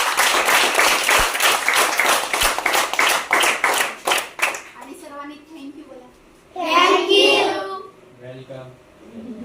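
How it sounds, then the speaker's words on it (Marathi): Audience applause at a school shoe-distribution event in Palghar, organised by a Mumbai commerce college: loud, dense clapping for about five seconds that fades out, followed by children's voices chattering. "उपस्थित सर्वांसाठी जोरदार टाळ्या वाजवा"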